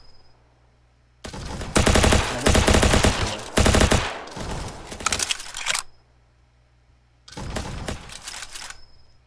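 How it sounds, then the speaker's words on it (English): A paintball gun fires in a video game, loud rapid-fire bursts: a long stuttering volley of several seconds, a short pause, then another burst, with no talking. "Paintball gun for some reason."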